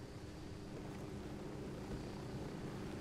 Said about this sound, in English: let's come out of the helicopter and let's move it through the dirt